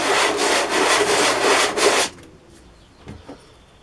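Small wooden pieces rubbed flat against a surface to take off burrs, a steady rhythmic scraping with regular back-and-forth strokes for about two seconds, then stopping, followed by a couple of faint knocks.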